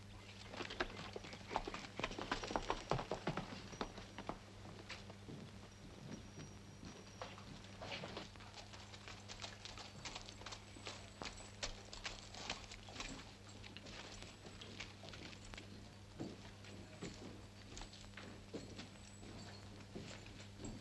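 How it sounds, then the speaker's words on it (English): A horse rides away at a walk on the soundtrack of a classic black-and-white Western, its hooves clip-clopping in a loose, uneven rhythm that is clearest early on and then settles into a steady, moderately distant patter under constant background hiss. "Now get on your horse and get going."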